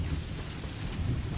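Rain pours in the video game Dinkum, a dense, steady hiss with a low rumbling undertone that stays even and fairly quiet throughout.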